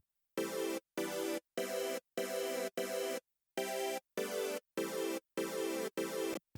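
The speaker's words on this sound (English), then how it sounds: "a kind of a square wave that thickens up kind of the mid-range of the chord" Square-wave synth layer thickening the mid-range of a chord stack, a hollow, buzzy sustained chord struck in ten evenly spaced repeated blocks with short gaps, alone and fairly loud.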